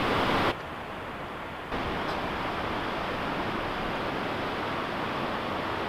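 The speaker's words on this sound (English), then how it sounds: "Hamilton Falls." Hamilton Falls, a large waterfall, roars as a steady, loud broadband wash of falling water that carries on without a break, apart from a brief drop in level near the start.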